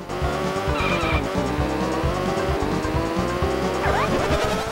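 Cars skidding in the SNES racing game Stunt Race FX, synthesized engine tones buzzing steadily while repeated squealing skid sounds rise and fall, loud and continuous with no talk.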